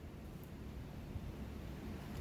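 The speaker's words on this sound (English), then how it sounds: "Wow, really, really windy." Steady, roaring low rumble of strong wind buffeting the microphone outdoors, constant and dense with no pauses.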